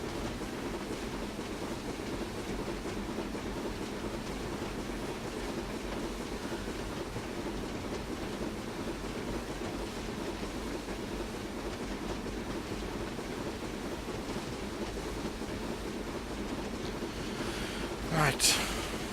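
A Black 5 steam locomotive in a train simulator game runs on Scottish western lines, a steady continuous rumble and rolling roar throughout, with a brief sharp hiss or whistle near the end.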